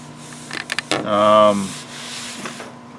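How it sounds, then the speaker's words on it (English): Rhythmic abrasive rubbing of sandpaper on hardened body filler, a few short scrapes followed by a longer drawn stroke, close by. "I've been sanding for a while."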